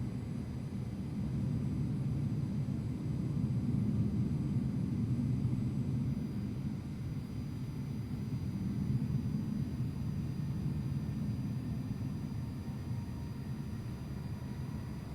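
Planes taking off in a flight simulator game make a steady, low jet roar that rumbles on without a break, fairly loud and even throughout, with no voices.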